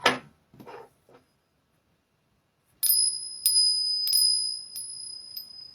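Small Tibetan tingsha hand bells struck together about five times in a slow series. Each strike gives a bright, sustained metallic ring close by, after a few soft handling sounds.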